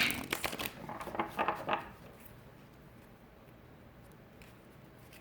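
Tarot cards are riffled and shuffled in quick crisp bursts for about two seconds, then the sound drops to a quiet room hush.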